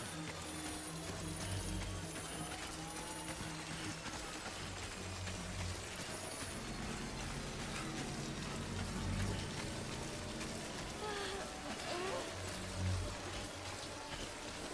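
Steady rain patters down in the video game Death Stranding, a faint continuous hiss with occasional soft knocks and footstep-like clops underneath.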